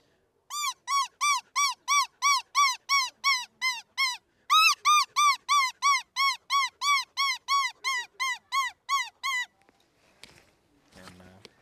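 A predator call imitating a baby cottontail rabbit gives a rapid series of about twenty high, squeaky distress cries in an even rhythm, close and loud, then falls quiet.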